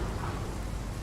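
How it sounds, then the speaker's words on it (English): Rain in the Euro Truck Simulator 2 driving game, a dense steady hiss of rainfall with a low rumbling undertone, brief and continuous. "Here's the rain"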